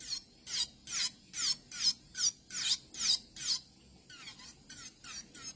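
Electric nail file grinding dip powder off fingernails, a series of about a dozen short rhythmic high-pitched whirring strokes, each rising and falling, close up and fairly quiet.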